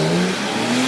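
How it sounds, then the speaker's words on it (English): A 400-horsepower four-wheel-drive Porsche launches hard off the line, its engine roaring loud and close in a sustained rising rev for under a second. "Watch this car go off the line."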